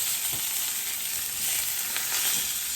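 Seasoned blackened steaks searing in a pan over medium heat, a steady bright sizzle and crackle running continuously and close, with no one speaking.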